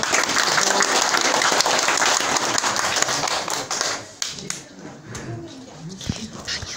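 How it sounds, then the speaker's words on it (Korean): At a village community meeting, the audience gives a brisk round of hand claps for about four seconds. The claps then thin out into scattered taps as a voice begins talking over the quieter room. "큰 박수 한번 부탁드립니다"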